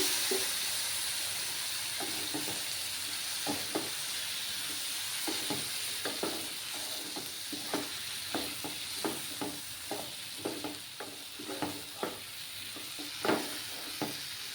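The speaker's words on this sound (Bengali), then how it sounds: "ভালোভাবে একটু কষিয়ে নেব" Dry fish curry sautéing in a pan with chili powder and a splash of water, a steady sizzle broken by frequent scraping stirs of the spatula, close and moderately loud, with no talk.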